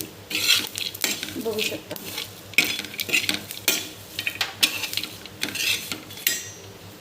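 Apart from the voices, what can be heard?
stuffing mixture being roasted and stirred in a pan on low flame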